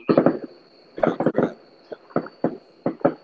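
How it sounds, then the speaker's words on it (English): Fireworks from a show go off in the distance as a run of separate muffled booms and crackles, spaced irregularly over a few seconds, with a faint steady tone underneath. "Is that fireworks? Yeah, someone put on a show."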